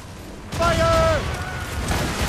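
A ship's cannon booms in an Assassin's Creed Rogue naval battle, one sudden heavy blast followed by a rumbling tail, with a voice shouting over it.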